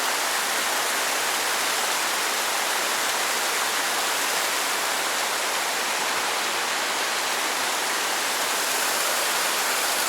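Holly Creek in North Georgia flows steadily nearby, a dense, even wash of rushing water that fills the whole stretch without pause and with no voices over it.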